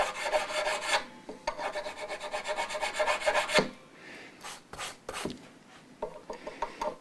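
A file is drawn across the frets of a Fender USA Stratocaster to recrown them, making repeated close scraping strokes in a quick even rhythm that pause and then resume in shorter bursts, with no talking.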